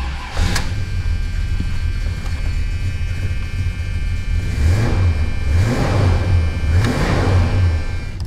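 A 1979 Chrysler Cordoba engine, its tachometer newly wired, idles steadily and then revs in several rising-and-falling bursts, loud and close, with no talking.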